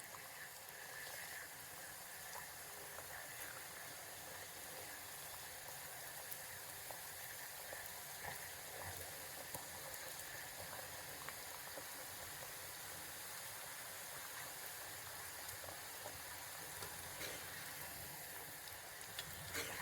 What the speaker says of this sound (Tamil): நம்ம ரெடி பண்ணி வச்சுருக்கிறதெல்லாம் ஒன்று ஒன்றா எண்ணெயில் போட்டு ஃப்ரை பண்ணி எடுத்துடலாம்